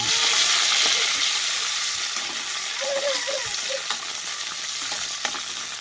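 Green chillies fry in a pan with a steady, close sizzle and crackle that continues throughout, with a few brief louder pops near the end.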